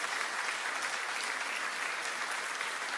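A church congregation applauds the small-group hosts, producing a steady, fairly faint wash of clapping from a crowd at some distance, with no talking over it.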